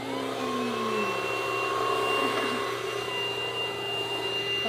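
A newly unboxed vacuum cleaner runs at a steady loud whine with a constant motor drone and no talk.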